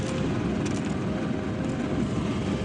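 A light aircraft's engine drones steadily in flight over the San Andreas Fault, a loud, continuous broadband roar with no pauses and no talking.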